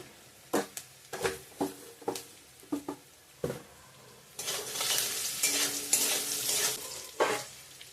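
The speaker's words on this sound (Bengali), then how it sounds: "ভালো করে ভেজে নেব পেঁয়াজ শুকনো লঙ্কা তেজপাতা পাঁচফোড়ন দিলাম একটু আদা দিয়ে দেব" Onion, dried red chilli, bay leaf, panch phoron and ginger fry in a pan, with intermittent stirring scrapes and knocks giving way to a louder, steady sizzle as the spices hit the hot oil.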